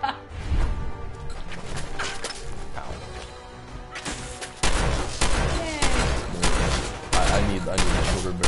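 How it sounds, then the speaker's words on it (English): Shotgun blasts boom repeatedly in a first-person fantasy role-playing game, loud close reports several times in a few seconds amid crashing impact noises and a busy game mix, with a voice talking in places. "what is this shotgun sound like?"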